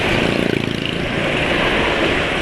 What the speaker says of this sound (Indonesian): suara mesin di pantulan mobil lain kok kasar